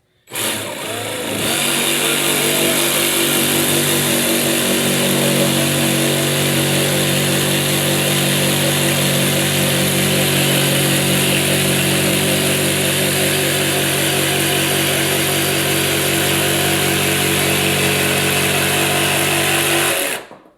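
A sabre saw cutting a clamped board runs loud and continuous for about twenty seconds, a steady buzzing motor whine with rapid blade chatter, starting abruptly and stopping at the end.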